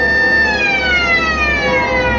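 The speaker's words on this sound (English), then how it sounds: "Cut the siren." A loud, steady siren wails continuously, its pitch slowly sliding downward as it winds down, heard alone with no voices.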